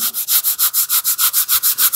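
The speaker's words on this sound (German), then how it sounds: "So, jetzt werden wir diese raue Stelle hier glatt schleifen." A rough spot on a leather steering wheel is sanded by hand in a steady rhythm of about fourteen close, even back-and-forth strokes, each a bright scratchy rasp, with no talking.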